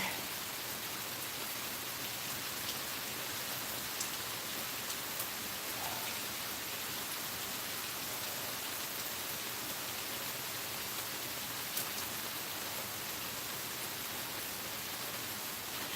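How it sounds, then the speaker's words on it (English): Steady rain falls outdoors as a dense, even hiss of drops, constant and moderately loud for the whole stretch with no voices. "So I just came out and I'm doing a rain vlog."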